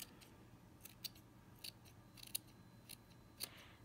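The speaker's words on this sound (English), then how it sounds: "So then you can go back in and do a little bit more trimming" Scissors snip repeatedly at the bristles of a sculpted miniature witch's broom, giving a series of small, crisp, close cuts spaced irregularly over a quiet background.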